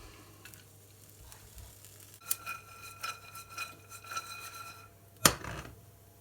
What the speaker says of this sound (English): And then in this pan, toast your walnuts